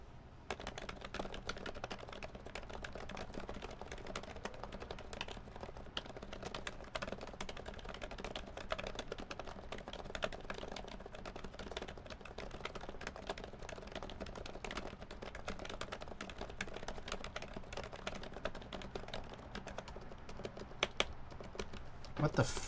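Rapid, continuous clacking on a mechanical keyboard with Taupe sliders, 45 gram domes and Amano High Pro marbled keycaps, keystrokes tumbling in a dense, uneven patter close by, with a voice now and then over the typing.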